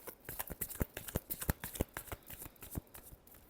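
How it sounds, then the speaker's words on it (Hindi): Tarot cards shuffled by hand in a fast riffling burst of crisp, papery slaps and flutters, close up, with no voices. "Last shuffle."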